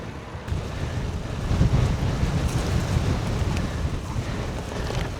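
Strong headwind buffeting the microphone while cycling a gravel bike, with a constant roar and low rumbling gusts, no voices.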